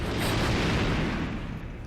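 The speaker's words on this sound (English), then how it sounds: "Get the fireworks." Fireworks in James Bond 007: Agent Under Fire on PS2 burst in a dense, rumbling roar of overlapping booms and crackle that fills the whole short stretch at steady loudness; no talking.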